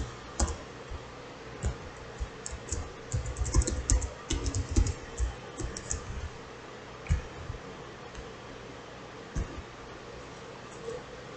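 Computer keyboard typing of a username and password, bursts of close, crisp key clicks in irregular clusters, then a few isolated taps and pauses.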